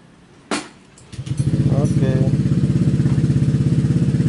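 A motorcycle engine is started remotely through an Android-app remote system: a click, a brief starter whir, then the engine catches and settles into a loud, steady, close idle.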